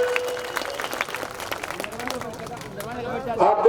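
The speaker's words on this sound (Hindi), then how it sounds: "इन तीनों लोगों के नाम पे जोरदार ताली बजाकर के स्वागत करिए" Crowd clapping at a political rally in Ajgara, a steady, dense burst of applause from many hands, with voices and a loudspeaker tone mixed in.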